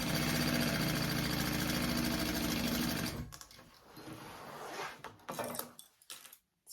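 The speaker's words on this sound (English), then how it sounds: "So I'm just sewing on this slip pocket." A sewing machine stitches a slip pocket onto a crossbody bag, running in a fast, steady, close whir for about three seconds before stopping, followed by quieter fabric handling and clicks.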